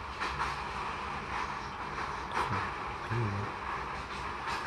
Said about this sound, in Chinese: 原来我一直坐在火车里面，我在前行。